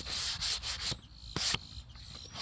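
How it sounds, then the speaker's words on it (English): Repeated scratchy strokes of sandpaper rubbing the painted body of an Estes Hi-Flier XL model rocket, several quick passes in bursts with brief pauses, close and fairly loud. "This is sanding really, really good because since I waited a day, it's coming right off."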